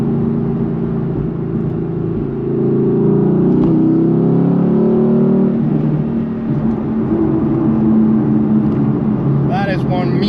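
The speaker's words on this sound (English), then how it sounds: "That is one mean sounding angry engine. Crackle and pops." Mercedes-AMG GT base model sports car engine revving hard, a deep, loud, sustained drone that rises and falls, with faint crackles and pops toward the end, heard from inside the car.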